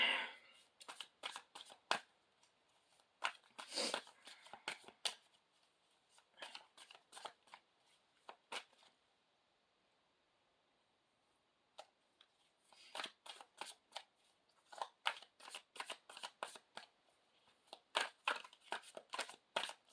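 Playing cards shuffled in repeated quick riffling bursts, close and crisp, with a quiet pause midway before the shuffling resumes.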